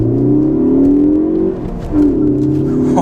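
A 2016 Ford Focus ST pulls hard at roughly three-quarter throttle, its engine note rising steadily, dipping briefly at a gear change, then climbing again, loud and close with no talk.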